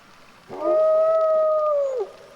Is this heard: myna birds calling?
no